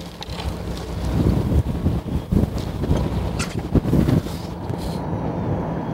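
Strong typhoon-level wind buffets a fishing boat off Jeju Island, heard as a loud, gusting roar of wind on the microphone, with irregular thumps and bursts throughout and no speech.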